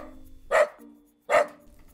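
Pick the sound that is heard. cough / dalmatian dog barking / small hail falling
dalmatian dog barking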